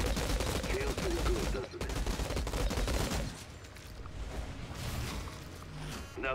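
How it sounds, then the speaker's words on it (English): Enemy gunfire in the Outriders video game, loud dense bursts of automatic shots and impacts that ease to sparser fire midway, with a game voice speaking over the shooting. "Well, they're shooting back."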